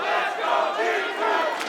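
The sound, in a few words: esports arena crowd chanting for teams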